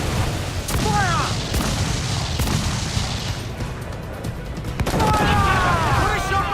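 Naval cannon fire from ships in Assassin's Creed IV: Black Flag: several heavy booming blasts, some in quick succession, over a roar of battle and crew shouting, with a fresh volley of loud reports toward the end.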